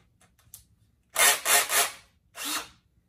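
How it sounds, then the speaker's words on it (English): A power drill spins Gardus SootEater chimney cleaning rods at high speed, in three loud bursts of whirring and rubbing after a few faint ticks. "you want to have it on high speed, your drill"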